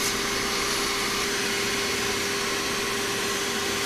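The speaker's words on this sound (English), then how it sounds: "After brushing with the cardboard pieces, repeat the vacuuming one more time." Vacuum cleaner running steadily while cleaning refrigerator condenser coils, a continuous loud broadband whoosh with a constant motor whine, no talking.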